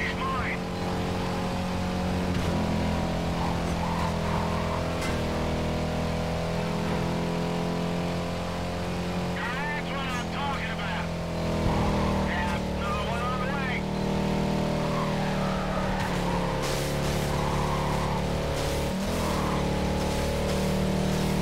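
A Chrysler 300C engine drones steadily in Need for Speed Carbon, a continuous low hum with harmonic layers, rising slightly mid-way as it revs, with game effects and talk over the top.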